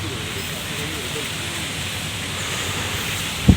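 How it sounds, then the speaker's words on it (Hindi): Strong wind blows outdoors at an event in a steady, loud broadband roar that continues through the clip, with a brief gust-like bump near the end and no voices. "तो यहाँ काफ़ी ज़ोरों से हवा चलने लगी है"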